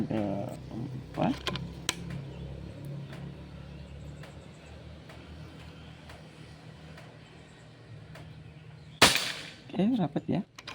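One crisp, loud report from a PCP Bocap Pajero Gen 5 air rifle bursts out late in the clip, preceded by low background noise and faint voices, with short clattering just afterward.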